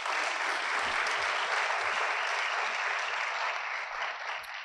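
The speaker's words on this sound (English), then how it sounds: "please join me in a round of applause" A school awards ceremony audience claps in a sustained, dense round of applause, steady and fairly loud throughout before easing slightly at the end.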